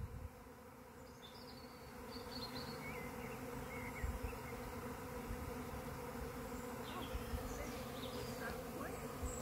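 A large swarm of bees hums in a dense, continuous drone with individual buzzes flitting past, steady and moderately close throughout, outdoors at an off-grid homestead in winter.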